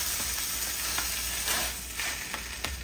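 A shrimp fajita quesadilla sizzles steadily in a hot pan right after flipping, a close, even frying hiss with small crackles and pops and no talking.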